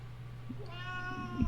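A domestic cat in a studio gives one faint, drawn-out meow partway through, over a steady low electrical hum, with no voices.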